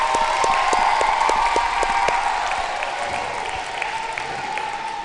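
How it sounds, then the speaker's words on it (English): Dense applause from a school audience honoring the technology staff, loud and sustained throughout, steady clapping with no voices standing out. "Can we please give them a big round of applause?"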